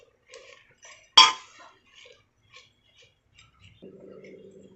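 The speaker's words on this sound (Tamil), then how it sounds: "நல்லா கலந்து விட்டுக்கலாம்." A spoon scrapes and clinks against a cooking pot while salted spinach dal is stirred, one sharp loud clank among soft scattered taps, followed by a low steady hum.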